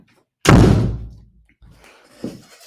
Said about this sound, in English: Actually, I want to close that door.